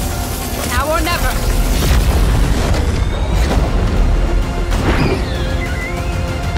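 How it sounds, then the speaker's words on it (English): Sojourn's railgun firing in the video game Overwatch 2, with heavy booming energy blasts and rising electronic sweeps over a dense layer of music and effects, while a voice speaks at times. "Railgun powered and ready to fire."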